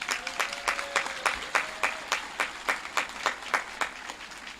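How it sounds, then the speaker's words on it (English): A high school graduation audience claps for graduating students in a slow, steady rhythm of synchronized beats, each clap distinct and evenly spaced, moderately loud against a soft crowd murmur. "Please give these students an applause as they complete their high school careers as well."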